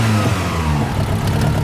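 An Abarth Punto race car with a custom exhaust and single silencer revs hard on launch control, a loud rasping engine note bouncing against the limiter in a short burst without talk.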